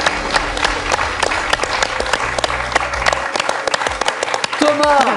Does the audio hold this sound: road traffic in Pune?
no